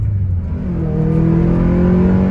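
A Ferrari California's front-mounted V8 revs hard and loud under acceleration, its steady engine roar climbing in pitch while the car drives at speed.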